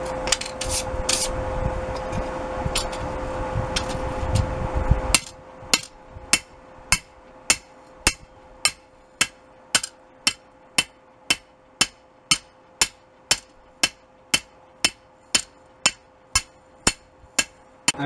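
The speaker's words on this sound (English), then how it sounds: "I'm hitting in this kind of pattern that stretches the steel wherever a hammer is glancing" A hammer forges a steel chef's knife blade: after a few seconds of rasping, scraping work comes a long run of sharp metallic strikes, evenly spaced at roughly one per second, close and clear.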